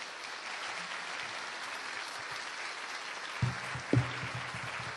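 An audience claps steadily after a speech by a chief guest, a dense, even wash of applause with a couple of louder thumps near the end.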